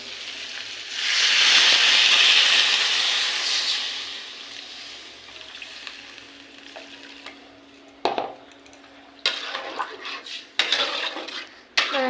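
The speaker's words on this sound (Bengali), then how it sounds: "এবার জল দিয়ে দেবো।" Water hits a pot of fried spices for a vegetarian dish, bursting into a loud hissing sizzle that fades over several seconds, followed by scattered clinks and scraping of a utensil against the pot.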